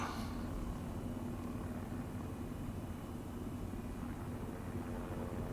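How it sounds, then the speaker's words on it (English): In Arma 3 Apex on the island of Tanoa, a helicopter flies at night with a loud, constant droning roar that stays level throughout, with no speech. "Look, it's a helicopter. It's loud."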